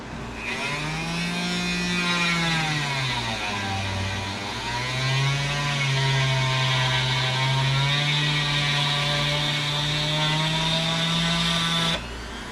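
A VEVOR rotary tool cuts plywood with a loud, continuous high-pitched whine whose pitch sags and recovers as the bit bites into the wood, running steadily for about twelve seconds before cutting off.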